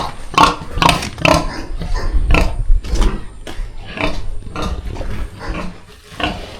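A large pig grunts and squeals in a rapid series of loud, close bursts, one after another with short gaps, heard alone.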